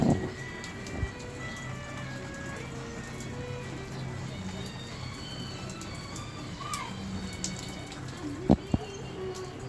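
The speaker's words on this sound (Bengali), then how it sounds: "প্রচুর বৃষ্টি পড়ছে" Heavy rain falls steadily in a dense, even patter, with a few sharp knocks and faint background sounds mixed in.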